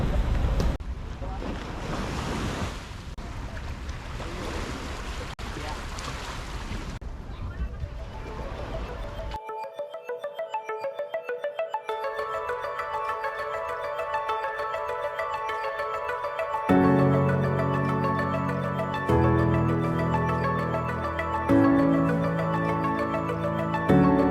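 Wind and surf rush at Papaya Beach in El Nido, Philippines, a loud, blustery wash of noise buffeting the microphone for several seconds before music takes over, with voices talking at times.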